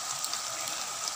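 Coco Mama coconut milk poured from a pouch into a cooking pot for ginataang gulay, a soft steady liquid trickle heard close and alone for a brief moment.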